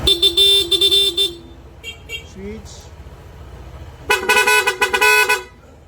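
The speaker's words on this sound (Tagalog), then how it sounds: "ang kinabit natin is PIA auto style horn, dual horn setup, horn selector" A PIA auto-style dual horn fitted to a Honda ADV160 scooter blares in two loud bursts of rapid honks, with a short spoken word and quiet clicking in the gap between.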